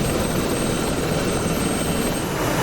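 Attack helicopters in the combat flight game DCS, a steady, loud rotor and engine drone that holds constant throughout with no voices over it.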